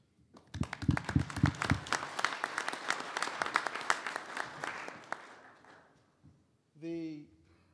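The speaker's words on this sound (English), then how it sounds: "You deserve an applause for that." A burst of applause from an audience, many hands clapping steadily for several seconds, then fading out before a brief voice at the end.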